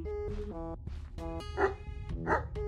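Several dogs bark in the indie horror game Something in the Well, giving close, clear yips and barks mixed with short whimpers in a quick, uneven run with no talk.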